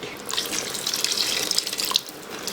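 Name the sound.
water pouring into pot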